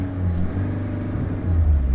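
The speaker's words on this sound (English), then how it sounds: "here let's turn on this engine, so we will get to know how the engine sound looks" The diesel engine of a Mahindra XUV 3XO MX3 Pro revs up from idle, a loud, close, low rumble that swells toward the end.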